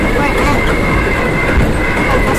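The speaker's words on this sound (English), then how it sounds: "That looks like a train over there already." A New York subway J train rolls past on its rails, a steady, loud broadband rumble with a sustained tonal whine running unbroken for the whole stretch.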